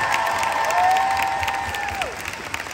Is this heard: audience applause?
yes